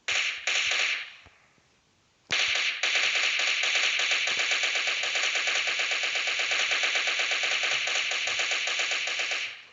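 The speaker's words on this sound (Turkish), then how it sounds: "bir adama bir şarjör boşaltıyorum" Sustained video-game automatic gunfire emptying a magazine, loud rapid bursts with a brief pause near two seconds, then an unbroken stream of shots to the end.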